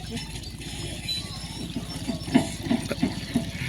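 Water from a motor pump runs while clothes are being washed by hand, a continuous splashing flow broken by irregular slaps and sloshes, with a person talking over it.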